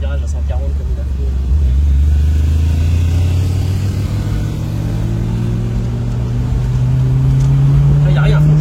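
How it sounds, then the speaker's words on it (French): A BMW M3 E30 convertible's engine revs hard up toward 5000 rpm, a loud, close, continuous drone whose pitch climbs steadily throughout. "là ça accélère beaucoup, à 5000"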